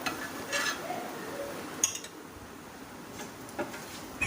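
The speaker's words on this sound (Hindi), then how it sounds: "अभी कबाब फ्राई हो गए हैं" Shami kebabs frying in a pan, a steady soft sizzle running throughout with a few faint clinks of a utensil against the pan, close and moderately loud.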